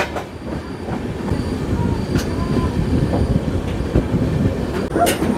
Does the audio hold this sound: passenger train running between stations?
yes